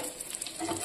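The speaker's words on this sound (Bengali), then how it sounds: "এদিকে আবার বসিয়ে দিয়েছি বেগুন ভাজা" Eggplant slices fry in hot oil in a home kitchen, giving a steady broadband sizzle and crackle throughout this brief moment, with no voices.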